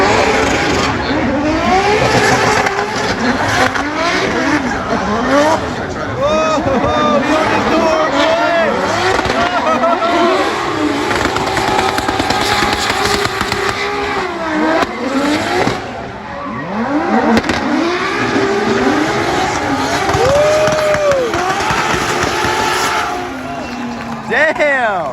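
Drift race cars at Formula Drift St. Louis, Round 5, with engines revving hard, rising and falling, and tires squealing in a loud continuous stretch, voices mixed in.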